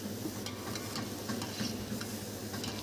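Ginger garlic paste frying in a pan with tomato, onion and green chilli for a mutton intestine curry; a steady, close sizzle with soft stirring clicks runs throughout, no talking.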